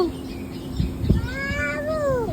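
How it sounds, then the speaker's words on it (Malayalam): A cat outdoors near a church gives a drawn-out meow with a rising and falling pitch, close and clear over faint background noise, after a brief knock. "പൂച്ച പൂച്ച എവിടെ? ആ മ്യാവു"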